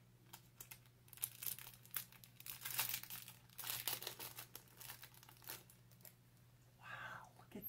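Crinkling plastic packaging around a ring being handled and opened up close, irregular bursts of crackly rustling with quiet pauses between them.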